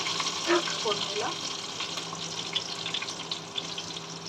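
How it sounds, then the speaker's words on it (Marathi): A small onion dropped into hot oil for tempering sizzles and crackles steadily at close range, with a brief burst of spattering near the start, no talking over it. "आता मी याच्यामध्ये हा छोटासा कांदा घेतला होता, तोही टाकणार आहे फोडणीला"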